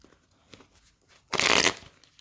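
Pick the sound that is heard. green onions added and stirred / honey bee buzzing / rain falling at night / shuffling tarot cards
shuffling tarot cards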